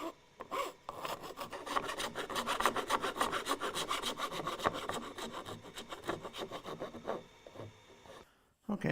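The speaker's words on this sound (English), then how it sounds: "I'm just going to file some of the burn marks out." Steady, rhythmic rasping strokes of a hand file working burn marks out of cut wood in a home workshop, repeating close and loud for most of the clip before stopping near the end.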